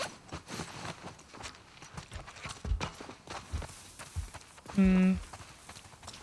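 Horse hooves walk with soft, irregular clip-clop steps in The Last of Us Part 2, mixed with game ambience and a brief hum from a player.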